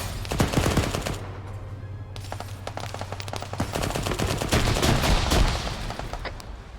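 Loud, sustained automatic gunfire from a technical, an armed pickup truck, in the military game Arma 3: rapid volleys of sharp close shots with heavy booming bursts that continue throughout.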